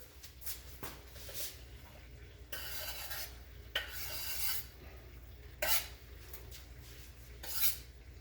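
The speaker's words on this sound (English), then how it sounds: "1 cut up onion, dump it in the meat and stir" A spoon scrapes and stirs cut-up onion into cooking meat in a pan, with repeated soft rasping strokes and occasional metallic scrapes against the cookware, fairly quiet and close.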